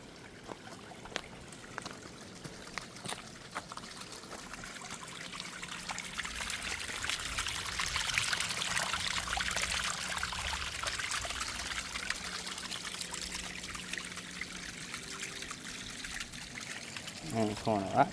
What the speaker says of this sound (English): here's some more water coming down pretty quick right here